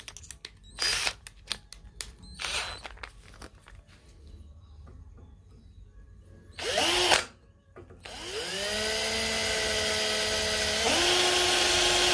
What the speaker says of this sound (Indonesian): kita akan bor di sini guys